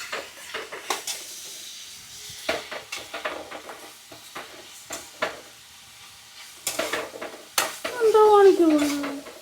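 Bone and tapioca are stirred in a cooking pot, giving irregular scraping and clinking knocks of a utensil against metal, quiet and close, with a brief voice near the end.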